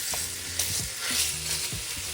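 Italian sausage browning in a pot for Zuppa Toscana soup, a steady close sizzle with repeated soft scrapes and knocks as a wooden spoon breaks up the meat.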